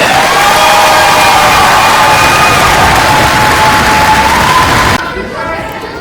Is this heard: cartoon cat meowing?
no